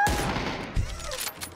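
A quick burst of PUBG video game gunfire crackles, with a few sharp shots and rattling echoes, fairly faint and brief.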